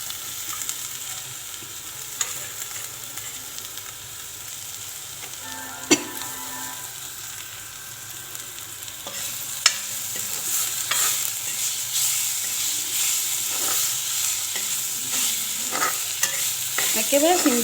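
Boiled potatoes fry in an oiled pan for a fish curry, with a soft continuous sizzle. Occasional sharp scrapes and clinks of stirring break through, growing busier toward the end.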